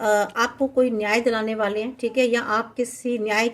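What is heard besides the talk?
No distinct noise like a dog, phone or traffic.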